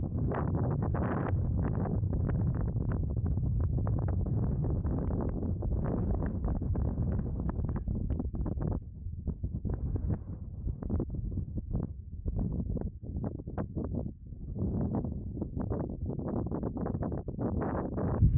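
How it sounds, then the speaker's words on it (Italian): Steady wind buffeting the microphone in a remote mountain area at about 4000 metres, a continuous low rumbling roar with gusty fluctuations throughout, no talking. "E adesso godetevi questo silenzio e un po' di vento insieme a noi."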